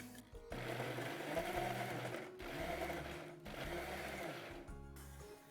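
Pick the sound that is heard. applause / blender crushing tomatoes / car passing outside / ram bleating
blender crushing tomatoes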